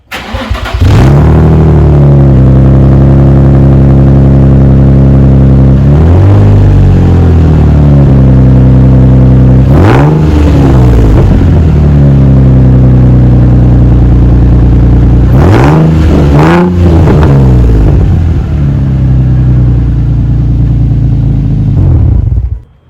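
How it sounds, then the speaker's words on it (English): Nissan 240SX drift car with a single exit exhaust, its engine idling loudly and revving up several times in sharp bursts, close and continuous throughout with no talk. "here's a sound clip with a single exit exhaust on"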